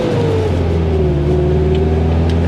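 A 1989 Nissan Hardbody Z24 truck driving on the road, its engine humming loud and close from inside the cab with a steady drone and a falling pitch as it shifts gears.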